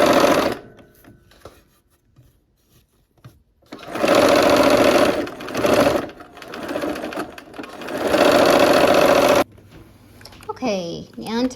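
A sewing machine stitches quilt block pieces for a bear claw block in two long steady runs, its fast whirring motor loud and close, separated by quieter handling noises, with a voice speaking briefly near the end.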